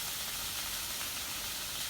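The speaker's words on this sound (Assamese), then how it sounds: "ভাজি দি দিলোঁ" Food fries in a pan for a home-cooked meat dish, a steady, close, even hiss of sizzling oil with no break.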